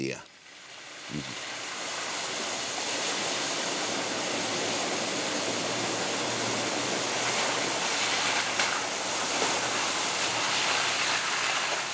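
Ocean waves break on a beach in Costa Rica, a steady broadband roar of surf that stays loud and continuous throughout, with no distinct individual crashes standing out.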